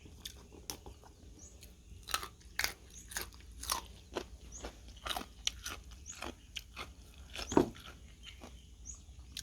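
Someone eating a lunch of rice with steamed fish at home, with repeated crunchy bites and chewing sounds spread through a quiet room, one louder crunch standing out near the end.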